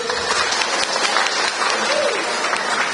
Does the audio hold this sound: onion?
no